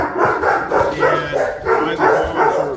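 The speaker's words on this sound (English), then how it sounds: "why the dogs are barking, it's hard to say." Several dogs barking in steady repeated bursts throughout, fairly loud and close at a property where a Ford Raptor pickup is parked, with no talk over them.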